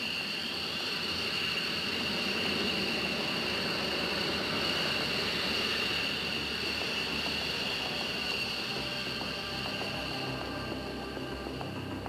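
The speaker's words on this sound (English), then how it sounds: "to feel the afterburner kick in and accelerate you down the runway" Fighter jet at full afterburner on its takeoff roll down a runway, a loud steady roaring rush with a hissing high edge that holds unbroken throughout.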